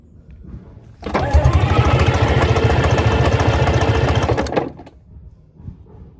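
A long-idle Rolls-Royce diesel engine, hot-wired after 13 years with its fuel rack stuck at full, cranks and bursts into a loud, rough, rapid running roar for about three and a half seconds, then cuts out abruptly.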